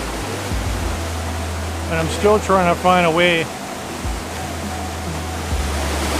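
A waterfall and rushing river roar steadily and close from mid-stream beside a large boulder, a broad unbroken wash of water noise that continues under someone talking briefly.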